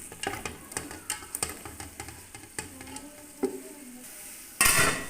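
Spices with chilli and turmeric fry in oil while a spoon stirs them, making repeated sharp scrapes and clinks over a faint sizzle, then a louder burst of sizzling near the end; quiet and close, without speech.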